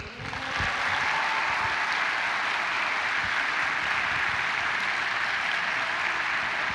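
A campus audience claps steadily and warmly, a dense, even wash of applause that fills the hall for several seconds with no talk over it.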